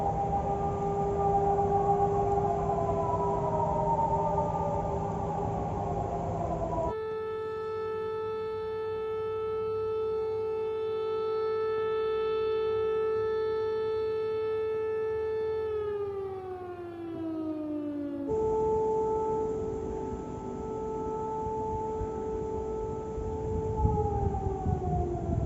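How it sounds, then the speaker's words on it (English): Civil defense air raid sirens in Ukraine wail across open country, their long tones rising and falling in slow sweeps and overlapping from a distance, steady and loud for the whole stretch with no voices. "real recordings of air raid sirens echoing across Ukrainian landscapes"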